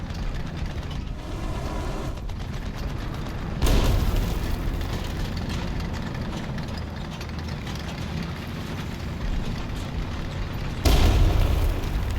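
Machine-gun fire and battle noise from a tank video game, a steady dense clatter with two heavier booming bursts near the start and end, no talking.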